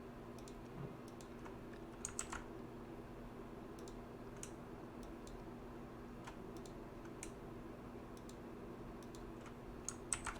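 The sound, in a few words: computer keyboard keys pressed (Ctrl+G)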